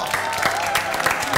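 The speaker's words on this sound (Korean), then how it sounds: "정광열 졸업생에게 박수" Studio audience applauding a returning graduate actor after his dramatic performance on a Korean variety show, a dense, steady wash of clapping and crowd noise lasting the whole moment.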